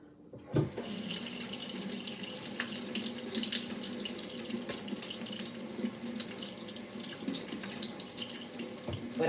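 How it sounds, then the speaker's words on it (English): A tap runs steadily into a sink while hands are washed indoors, a continuous close splashing hiss with small shifts as the hands move through the stream. "let me wash my hands"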